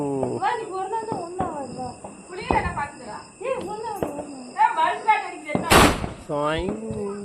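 Diwali firecrackers crack sharply several times, one louder burst standing out near the end, while children and adults chatter excitedly throughout.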